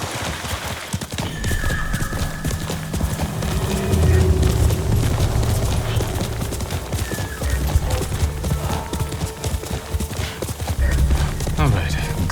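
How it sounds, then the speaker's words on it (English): Horse hooves gallop in Ghost of Tsushima, a rapid, continuous clip-clop with a whinny over dense game sound and background rumble, while a voice talks over it. "You're a good horse, Nobu."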